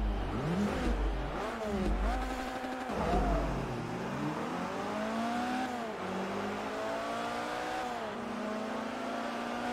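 A car launching in a drag race in Forza Motorsport 3, the engine howling up through the revs with several quick gear changes, then pulling on in a long, steady climb.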